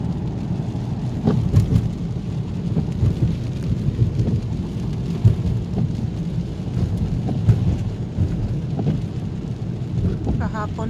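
Heavy rain pours down steadily in a dense, continuous hiss, with a few louder drips and knocks standing out against the constant downpour.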